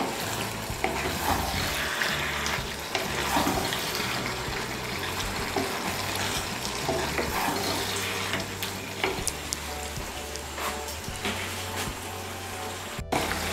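Fish head and Malabar spinach fry and get stirred in a pan, with a steady sizzle under scraping stir strokes and occasional clatters, close and continuous with no talk.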